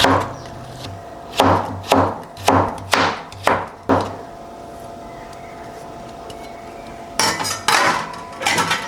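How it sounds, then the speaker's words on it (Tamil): A knife chops vegetables into pieces for veg noodles on a board with sharp, rhythmic cuts, about seven in a row. After a pause, a few more knocks and clatter follow. "இப்படி கட் பண்ணிவிட்டு இந்த மாதிரி இப்படி கட் பண்ணிங்கன்னா உங்களுக்கு வந்து இந்த மாதிரி பீஸ் கிடச்சிடும்"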